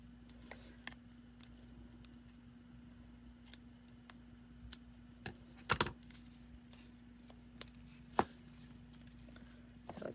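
Scissors trim the ends of a knotted ribbon on a craft gift jar, heard as a few faint, sharp snips scattered over a quiet room hum.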